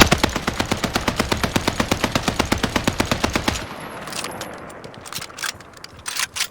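A base NZ-41 rifle in a video game fires a rapid, evenly spaced automatic burst of about thirty loud, sharp shots over three and a half seconds. Quieter clicks and faint mechanical noises follow.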